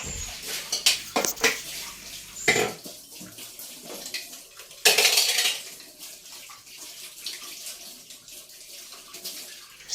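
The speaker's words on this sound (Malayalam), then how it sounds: "മിക്സിയുടെ ജാറും പിന്നെ മീനെടുത്ത പാത്രം ഒക്കെ ഒന്ന് സോപ്പിട്ട് കഴുകി മാറ്റി വയ്ക്കുകയാണ്" Running tap water splashes in a sink while a mixer jar and fish dishes are washed with soap. Scattered clinks and knocks of the vessels are close and fairly loud at first, then settle into a softer, steady wash.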